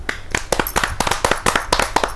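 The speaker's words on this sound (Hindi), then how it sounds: "सुषमा सवेरा जी, तालियों से स्वागत करेंगे" At a Hindi poetry gathering (kavi sammelan), an audience welcomes a poet with close, loud, somewhat uneven clapping, sharp individual claps coming in quick succession without any talk.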